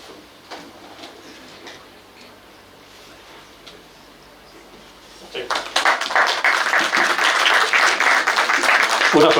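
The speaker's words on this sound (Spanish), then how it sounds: "Un aplauso entonces nuevamente a todas las empresas que han colaborado en este proyecto" A seminar audience at the closing event of a cold atmospheric plasma research project breaks into loud, sustained applause, which starts abruptly partway through after quieter ticking and a murmur of voices.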